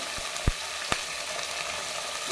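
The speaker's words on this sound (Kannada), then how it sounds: "ಒಂದು 2 ನಿಮಿಷ ಫ್ರೈ ಆಗಿದೆ ಎಣ್ಣೆಲಿ ಚೆನ್ನಾಗಿ." Mixed vegetables for sambar frying in oil, a continuous soft hiss with a couple of sharp spoon taps against the pan.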